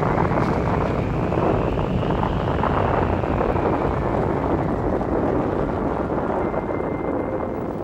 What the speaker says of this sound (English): we can see the dust storm as it increases in intensity